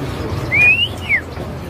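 An oriental magpie-robin (kacer) in a bird shop gives a short, bright whistled call of two rising and falling notes, close and clear over a low background hum.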